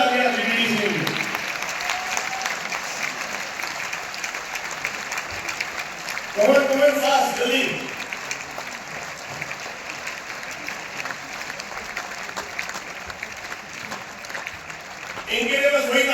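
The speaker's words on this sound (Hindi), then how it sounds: "जोरदार तालियां जीडीडी के लिए" Applause from a crowd at a lively business meeting in Lucknow keeps going as a steady clatter throughout, while someone speaks over it through a microphone at the start, in the middle and at the end.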